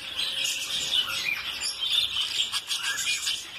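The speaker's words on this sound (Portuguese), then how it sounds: "Periquitos aqui que são os meus favoritos." Parakeets in an exotic bird breeding aviary, a dense chorus of high chirps and tweets overlapping continuously at moderate distance, with no talk.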